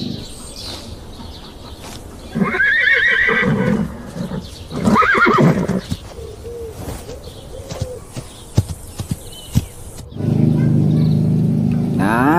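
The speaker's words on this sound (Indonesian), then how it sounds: "Wow, ada kuda." A horse whinnies loudly twice in the open outdoors, with soft hoof clops, some birdsong and pigeon cooing around it, then a steady low rumble toward the end.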